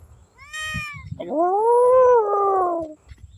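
A cat gives a short high meow followed by one long, loud, drawn-out yowl, close by, at an abandoned, swampy beach resort.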